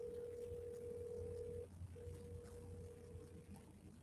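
Phone call ringback tone: a steady electronic tone, briefly interrupted and then resumed, heard faintly over low background hiss with no talking.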